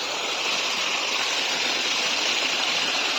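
Water flows in a stream from a muddy spring, a steady, even rushing hiss close by with no voices.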